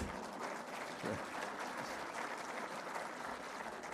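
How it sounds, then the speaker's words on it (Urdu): An audience claps through a political address on a relief package, a steady, fairly faint patter of many hands that continues without a break. "اب بتائیں کہ آپ کی تالی اس معاملے میں ٹھنڈی ہے"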